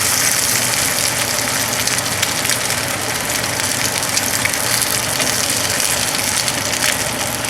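Bone-in pork chop, two inches thick and sous vide cooked, searing in hot ghee in a pan: a steady, dense, close-up sizzle and crackle that holds evenly throughout with no talking.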